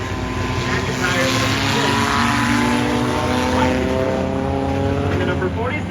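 Race cars lapping at a night of demolition derby racing at Irwindale Speedway, a loud, sustained engine roar with rising and shifting harmonic tones as cars pass, under an announcer's steady commentary.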